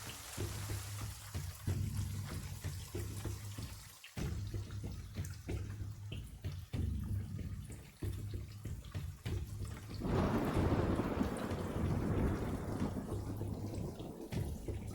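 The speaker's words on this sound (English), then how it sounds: "you start to feel like just more and more rushing coming down, like a torrential downpour just suddenly" Steady heavy rain in a video game pours down in a dense continuous rush, swelling louder partway through, with scattered drops and splashes mixed in.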